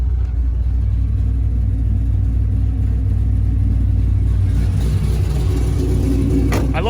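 A Camaro with a freshly built forged 6.0 engine idles close by in a steady, loud, low rumble with an even lope that holds throughout, with no talk.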